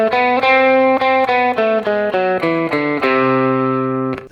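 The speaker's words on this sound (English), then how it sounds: "The third mode of the melodic minor scale is the Lydian augmented scale." Lydian augmented scale picked note by note on a distorted electric guitar, about a dozen evenly spaced notes stepping upward and then down before a final sustained tone, played alone.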